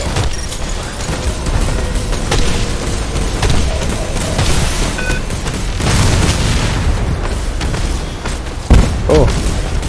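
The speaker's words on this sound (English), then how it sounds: "There's bombs going off everywhere" Bombs detonate in the space combat game Conflict of Stars: a steady roar of battle with repeated heavy booms and bursts, and one sharp, loud blast near the end.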